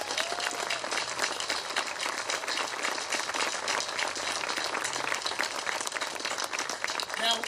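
A crowd applauds veterans at the 2019 Pearl Harbor Memorial Parade, a continuous outdoor patter of many hands heard at moderate distance, steady for several seconds without a break.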